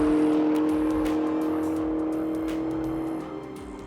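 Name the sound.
Camaro muscle car engine and exhaust revving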